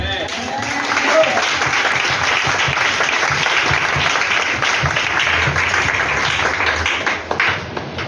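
A congregation at an annual thanksgiving church service breaks into loud, sustained applause, a dense wash of clapping mixed with raised voices and cheering that carries on without pause.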